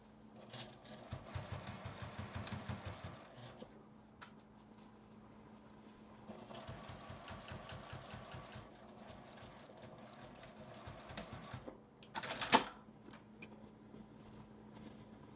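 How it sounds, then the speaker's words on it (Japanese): A sewing machine stitches the edges of two fabric pieces for a compact accordion-style mini wallet, running in several bursts of rapid mechanical whirring with short pauses between them, close and moderately loud. "真ん中の2枚を合わせて端を縫います"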